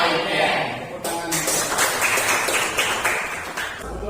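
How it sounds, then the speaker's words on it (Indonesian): Hands clap across a school audience in a steady, fairly close wash of applause that holds for several seconds, with some voices mixed in. "Tepuk tangan."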